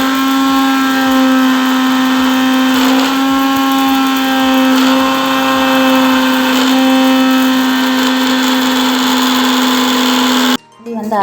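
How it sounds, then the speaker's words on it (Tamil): An electric kitchen mixer grinds roasted spices into powder for kumquat pickle, a loud, steady motor whine with a constant pitch and faint rattling. It runs for about ten seconds, then cuts off abruptly. "பொடி வந்து அரைக்கிறதுக்கு வறுத்து வச்சுட்டு நல்லா அதை அரைச்சிக்கலாம்"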